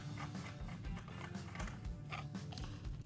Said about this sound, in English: take out the bolt completely